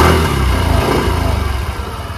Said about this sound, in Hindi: साउंड की अगर देखी जाए तो साउंड भी काफ़ी सही है गाड़ी का